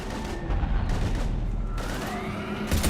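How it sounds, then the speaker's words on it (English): Sustained gunfire in the Mass Effect 3 video game, a dense, continuous fusillade of shots and blasts, loud and close, with no talk over it. "We're taking heavy fire."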